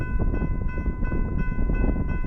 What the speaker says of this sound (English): the first train we would catch while waiting would be an eastbound Z train